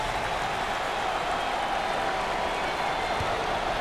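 A basketball arena crowd at an NIT quarterfinal game between Villanova and Iowa cheers continuously, a dense, steady roar of voices and applause with no clear peaks.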